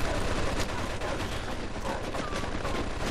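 Rapid machine gun fire from a game set in 1940s-era Mafia 2, loud and close, a continuous dense burst of shots with no pauses across the whole stretch.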